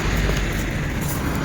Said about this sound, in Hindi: अभी गाड़ियों की आवाज़ ज़्यादा आ रही है, मेरी आवाज़ कम आ रही है।